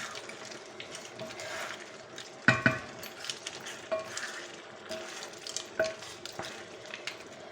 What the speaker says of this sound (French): Voilà, je remue.